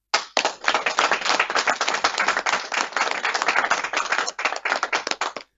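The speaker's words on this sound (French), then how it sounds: "Applaudissez Yopougon" A crowd at a COJEP political congress in Yopougon breaks into loud, rapid applause, with dense rhythmic clapping that surges in waves and keeps going steadily for several seconds.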